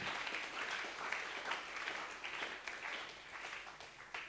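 A church congregation claps together in steady, dense applause that stays fairly faint and distant throughout, with no clear voices above it.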